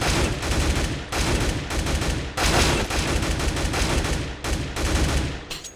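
Tap-shooting in Counter-Strike: Global Offensive, loud bursts of rifle fire in short strings of rapid shots split by brief gaps, close and dominating throughout with no voices.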